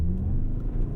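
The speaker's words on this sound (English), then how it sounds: "All right, let's do a quick 0 to 60 here" A 2024 Toyota Highlander Hybrid Platinum AWD in sport mode launches hard from a full stop, its engine giving a loud, steady low rumble and drone from inside the cabin.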